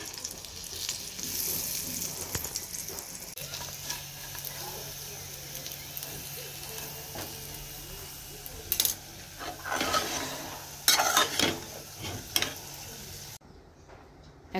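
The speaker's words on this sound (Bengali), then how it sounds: "এখানে বেগুন ভাজা হচ্ছে" Eggplant slices fry in a pan, giving a steady, close hiss of oil that lasts throughout. Occasional utensil clinks and bursts of crackling rise near the end, then the sound cuts off abruptly.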